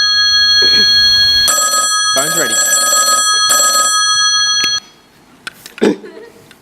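A telephone rings in repeated electronic bursts, fairly loud and close, in a staged youth comedy scene before a call is answered; voices talk over and after the ringing.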